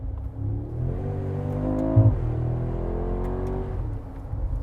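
A 2025 Mercedes-AMG G63 V8 engine revs up, rising in pitch for a couple of seconds, then settling into a steady, loud idle-to-mid drone. The engine stays close and no one talks over it.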